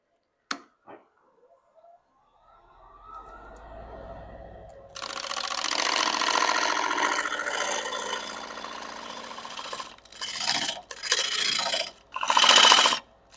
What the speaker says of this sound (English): Basically just sawing through the bark.